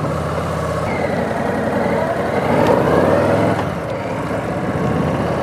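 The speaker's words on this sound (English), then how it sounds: "Okay, let's hit the road, go to John's" A light motorcycle is ridden along a road, its engine droning steadily and loud up close with wind rush, swelling briefly mid-way and then settling again.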